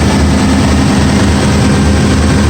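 Steady, loud low-pitched drone of the outboard engines on a 1999 Boston Whaler 23 Conquest runs continuously, a heavy motor hum without pauses or changes in pitch.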